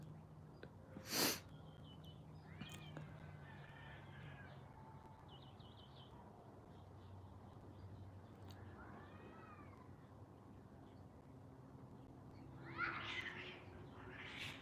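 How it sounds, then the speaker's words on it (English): Cats mating outdoors: a few drawn-out yowls and wavering caterwauls, with one sharp loud burst near the start and a harsh hissing flare at the end, over steady low background noise. "Cat sex is like incredibly violent."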